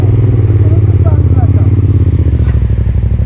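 A motorcycle engine burbles loudly and steadily through its exhaust, with a rapid, throaty pulsing rhythm close by.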